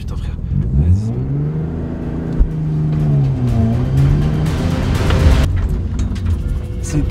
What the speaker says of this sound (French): tu vas me faire un demi-tour au frein